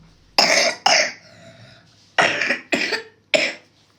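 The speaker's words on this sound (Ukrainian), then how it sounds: "Покашляй." A child coughs several times: two quick coughs, a brief pause with a faint breathy sound, then three more harsh coughs, close by.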